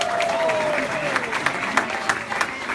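Audience at a City Winery concert in Atlanta applauding the sound engineer, a full round of clapping and some cheering from the crowd, with a sustained tone fading out early on under the clapping.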